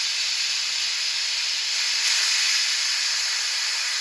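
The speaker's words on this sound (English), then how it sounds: "This is the signal that all the pressure inside the pressure cooker is going out" A pressure cooker vents steam in a loud, continuous, close hiss that stays steady throughout while it cooks saffron risotto.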